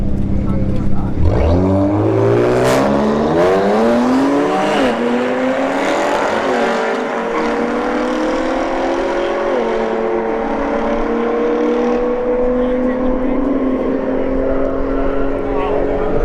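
A Chevrolet RS LT1 launches down the right lane of a drag strip, its engine roaring loud and close as it climbs through rising pitch sweeps and gear changes, with track announcer talk layered over the blare.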